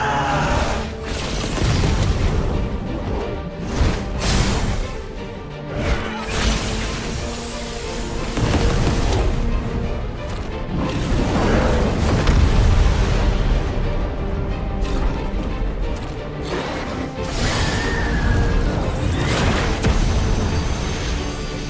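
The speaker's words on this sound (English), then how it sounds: "Crazy ass dragon battles is right. It's just fucking explosions all over the place." Repeated booming explosions from a dragon battle in the video game Final Fantasy 16, loud and continuous, layered with heavy impacts and dense game music over the whole stretch.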